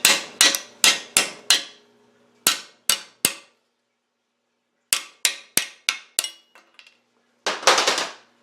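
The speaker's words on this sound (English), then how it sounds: "I'm going to take this seal puller." Sharp metallic hammer-like taps from a seal puller prying the seal out of a GM 4L80-E automatic transmission case, coming in quick bursts of several close, loud knocks separated by pauses, with a final scraping rattle.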